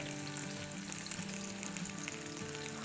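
Tandoori chicken being stirred in a pan after the charcoal is removed, giving a steady close sizzle and frying hiss with faint stirring and no voices.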